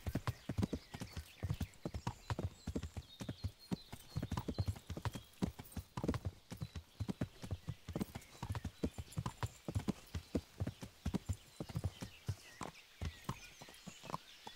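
Horse hooves clip-clop steadily in a medieval video game, a close, regular walking rhythm of crisp hoofbeats on hard ground that continues throughout, with a faint whinny in places.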